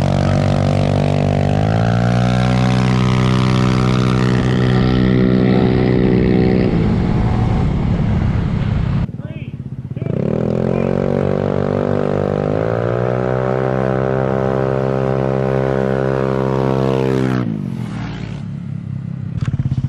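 Mini bikes, including a Honda Grom, Yamaha Zuma and Yamaha SMAX scooter, racing in a street drag: loud, close engines rev hard and climb in pitch through gear changes, a brief dip between pulls, then another long acceleration.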